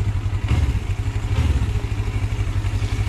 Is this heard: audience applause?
no